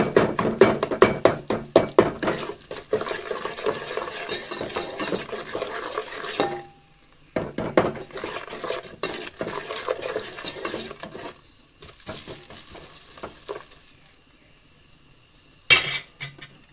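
A utensil mashes a crushed Maggi cube into a pot of mandi base and stirs it, with repeated scraping and clinking of metal against the pot. Bursts of work alternate with brief pauses, close and fairly loud, and no one speaks.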